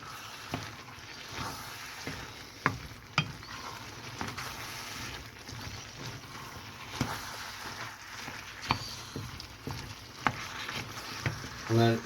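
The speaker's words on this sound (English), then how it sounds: "Give that a quick stir, quick cook around." Tomato sauce being stirred and cooked in a pan, with quiet scraping, sloshing and occasional knocks of the spoon against the pan over a soft sizzle, fairly faint and intermittent.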